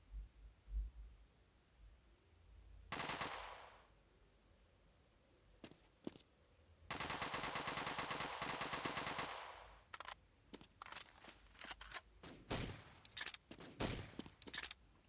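Bursts of automatic AK rifle fire in the video game Special Forces Group 2, with long sustained volleys and rapid single cracks, loud and close against a quiet background.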